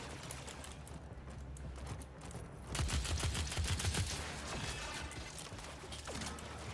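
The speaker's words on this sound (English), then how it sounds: "And yes, this crossbow has a rapid fire function." Rapid-fire crossbow shots in Warframe, a fast mechanical stream of snapping releases that grows louder and denser partway through, over a steady low game ambience.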